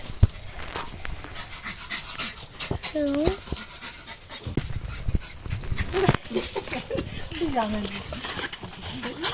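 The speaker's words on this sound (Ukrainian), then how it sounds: "одна собака. Ще одна. Двоє собак." Dogs pant, whine and whimper excitedly close by, with yelps and scuffling, while people talk over them throughout.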